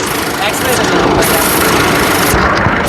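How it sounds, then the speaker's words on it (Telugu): A 2016 Ford EcoSport Titanium car engine idling with a steady, continuous broadband hum, close and loud, with no pauses through the whole stretch. "ఇంజన్ యొక్క నాయిస్ చాలా సైలెంట్గా అయితే ఉంది"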